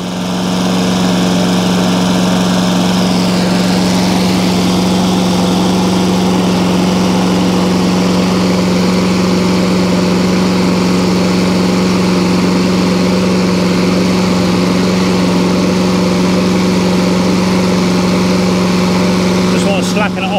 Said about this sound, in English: I hear the belt squealing